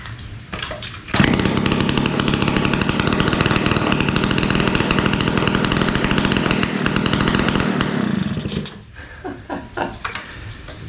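A classic Mini engine, run with the muffler off and the choke off on its first start in decades, fires up and runs loud and raspy for about seven seconds, then dies away.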